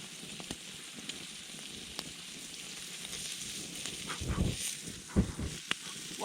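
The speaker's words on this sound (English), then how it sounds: "I am attempting to do bacon" Bacon sizzles on a grill pan set over a campfire in the Northern Ontario wilderness, a steady crackling hiss broken by a few sharper pops and spits near the end, close and moderately loud.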